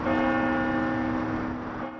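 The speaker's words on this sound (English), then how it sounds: "Church bells." Church bells ringing in a community grieving after a deadly attack at Annunciation, a sustained resonant toll with a lingering hum that fills the whole moment.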